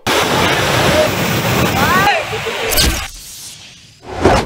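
Water pours over an overflowing village tank weir in Telangana in a loud, broad rush for about two seconds, then drops away into quieter moments broken by brief voices and a final burst of noise.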